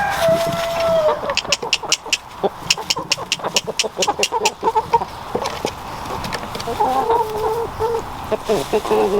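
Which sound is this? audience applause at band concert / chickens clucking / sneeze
chickens clucking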